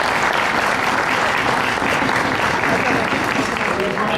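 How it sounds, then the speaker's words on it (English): Steady, dense applause from an audience for coaches at an evening event, a full continuous clapping wash lasting the whole moment. "we can give a round of applause to"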